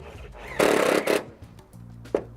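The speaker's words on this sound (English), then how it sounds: "we're actually going to screw through the product right into the fascia board" A power driver runs fasteners through a gutter screen into a wooden fascia board, giving two short, close, gritty whirring bursts followed by quieter handling noise.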